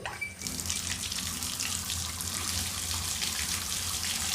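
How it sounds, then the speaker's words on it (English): A bathroom tap runs water into a sink in a steady, full rush, close and continuous for about four seconds with no voices, cutting off at the end. "I save water by closing the tap while I brush my teeth"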